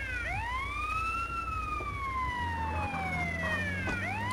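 Ambulance siren in GTA San Andreas Definitive Edition, a loud wailing siren sweeping up and down in long slow cycles, with a vehicle engine droning underneath.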